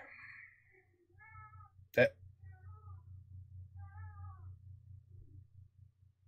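A cat meows several times in short, tonal cries over a low steady hum, with a sharp tap partway through.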